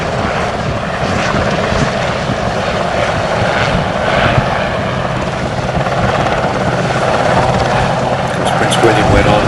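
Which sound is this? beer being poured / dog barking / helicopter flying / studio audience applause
helicopter flying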